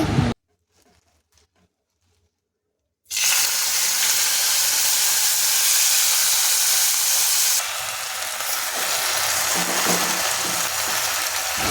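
Gongura leaves fry in a bowl after fried chillies are taken out. A moment of near silence gives way to a loud, close, steady sizzle that lasts to the end, dipping slightly partway through.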